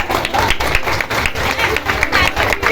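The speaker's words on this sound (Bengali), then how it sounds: "জোরে একটা হাততালি হয়ে যাক" Loud clapping and applause from a group gathered at a winter camp event, dense and continuous with rhythmic bursts, with voices mixed in.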